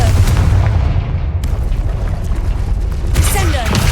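Confringo fire spell in Hogwarts Legacy going off as a loud, dense burst with a sharp high-pitched crackle, then a rumbling low boom that holds the whole time, with a second bright flare near the end.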